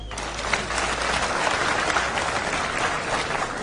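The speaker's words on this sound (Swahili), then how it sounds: "Mpigie makofi." An audience at a political speech in Kenya bursts into applause, a dense and steady clapping that lasts a few seconds with no talk on top.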